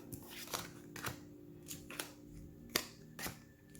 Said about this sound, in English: get a good shuffle